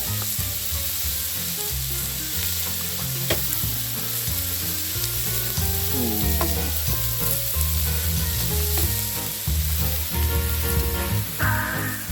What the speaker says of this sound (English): So I'm just literally just sealing the steak.